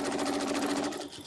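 A sewing machine stitches a 6.5-inch circle, its needle running in a fast, steady mechanical chatter, close and continuous, before slowing and fading near the end.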